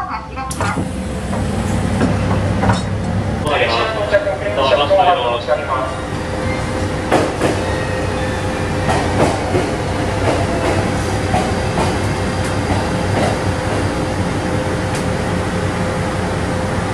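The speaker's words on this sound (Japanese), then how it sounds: "列車は主要駅の多度津を出発。" A JR Shikoku 2700 series diesel express departs Tadotsu station, heard from inside as a steady loud rumble and hum with rolling rail clatter, a voice talking over it early on.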